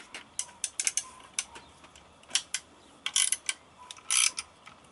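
Bolts on the intake manifold of a Lincoln LS 3.0 V6 are worked loose with a ratchet, giving short, quiet, irregular clicking bursts close by with small pauses between them.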